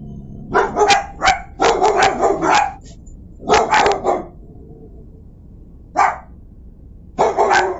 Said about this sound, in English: They're barking for blood, guys.